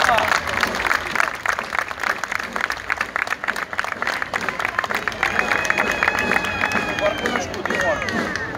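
An outdoor crowd claps for a folk street-parade troupe from a Coimbra village, a dense, lively patter of applause mixed with crowd murmur and bright whistle-like tones rising partway through.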